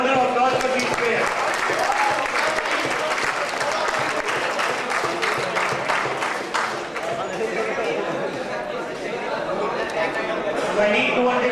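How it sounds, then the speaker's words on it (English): Audience applause for players at an auction-style game event, a dense, sustained roar of clapping mixed with crowd chatter and voices throughout. "So let's have a huge round of applause for these players."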